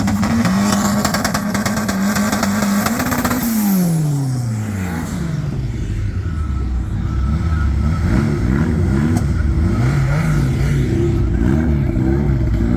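A full drag car at a drag race holds a loud high rev, then the pitch sweeps down as it backs off. Later a lower, rougher engine note pulses and burbles at close range, with no voices.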